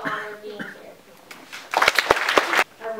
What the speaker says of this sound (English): I would like to give a round of applause to Spruce Creek High School and also to Mrs. Deborah Abadia